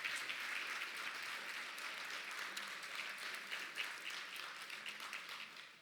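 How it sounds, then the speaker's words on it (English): Steady audience applause fills a community hall at a provincial all-candidates election forum, a dense, continuous wash of many hands clapping that holds at an even level throughout before easing slightly at the end. "Can we give them all another big round of applause?"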